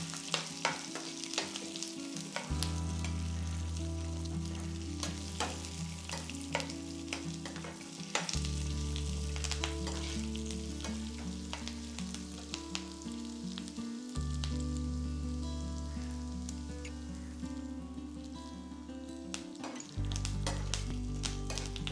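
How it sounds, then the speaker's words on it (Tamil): Peanuts and roasted split gram fry in hot oil for a beaten-rice snack mixture, a steady sizzle broken by repeated rhythmic scraping and clattering as they are stirred, close and alone without talk. "நல்லா இந்த வேர்க்கடலையும் உடச்ச கடலையும் நல்லா ஃப்ரை ஆகிற வரைக்கும் நம்ம வந்து நல்லா மிக்ஸ் பண்ணணும்."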